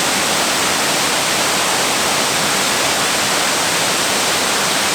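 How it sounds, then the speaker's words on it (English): Cedar Falls waterfall in Hocking State Park, Ohio, pours in a steady, loud, broadband rush of falling water that fills the whole span without pause, close by and with no voices. "Catching the waterfall."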